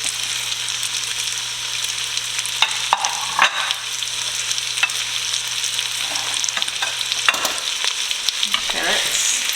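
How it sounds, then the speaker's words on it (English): Chopped onion, celery and carrots sauté in a pot with a loud, steady sizzle, while a spoon scrapes and clatters through them in scattered strokes, close by with no talking. "Stir that in for a little bit."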